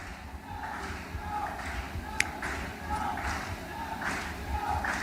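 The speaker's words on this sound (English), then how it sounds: "his competitors cheering him on down the runway" Crowd and fellow competitors cheer and call out as a long jumper runs down the runway at the CARIFTA Games Boys U20 long jump, a steady rising roar of voices with a sharp clap or thud partway through.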